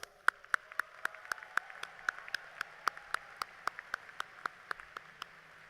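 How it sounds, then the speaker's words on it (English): Clapping at a high school graduation ceremony comes as a faint, steady series of evenly spaced single claps, about four per second, with little crowd noise around them. "So let's give them a great round of applause."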